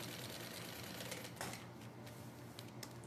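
A sewing machine stitches a pocket onto a colourful bag, running in a steady, dense mechanical whir that stays close and continuous throughout, with a few brief rattling accents.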